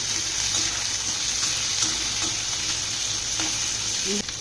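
Mint leaves and chopped tomatoes sizzle steadily in a pan of masala for a chicken curry while being stirred, with a constant hiss and a few faint scraping knocks.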